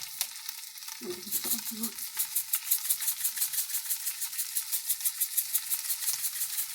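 Butter and seasonings sizzle steadily in a frying pan for homemade beef stroganoff. A fairly quiet, continuous crackle swells in a regular pulsing rhythm as the pan contents are moved about.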